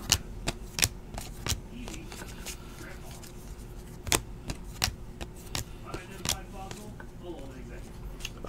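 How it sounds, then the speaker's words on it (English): Donruss basketball cards being sorted by hand, a steady run of crisp snapping and flicking as cards are dealt and stacked, irregular clicks and slaps close by against a faint room hum. "So that's why I'm sorting it now."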